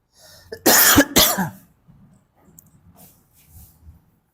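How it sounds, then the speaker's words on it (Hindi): Two sharp, loud coughs close up, followed by quiet breathing and faint rustling. "क्यों खांसी आ रहा है"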